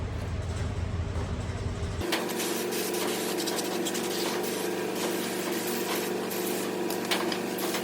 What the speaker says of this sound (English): I might just hose this down with brake clean for now